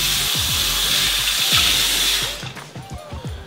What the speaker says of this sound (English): Check out this water pressure.